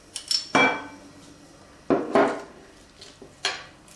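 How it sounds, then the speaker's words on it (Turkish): A simple hand masher works through salad ingredients, potatoes among them, in a bowl. It gives a few separate close clanks and scraping thumps with pauses between them, fairly loud, and no talk. "Şöyle basit bir ezme aletiyle eziyoruz."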